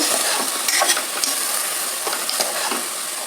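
Hyacinth beans (avarekalu) fry in oil over a low flame, giving a steady, close hiss and sizzle with soft scraping stirs now and then.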